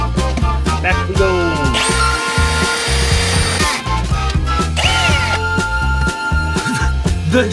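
Loud, close whirring of a power drill running in long bursts while installing a dishwasher in a van, mixed with a steady beat of music, grinding pitch rising and falling.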